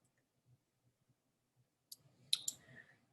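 A few sharp computer mouse clicks come after near silence, then a short rattly burst of clicking and dragging at a desk, close and fairly faint, with no talking.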